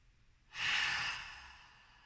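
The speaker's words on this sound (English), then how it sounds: "Deep breath in, deeper than the last. Exhale out through the mouth." One long, soft breath pushed out through the mouth during a guided deep-breathing exercise, close and gentle, rising quickly and fading over about a second and a half in an otherwise quiet room.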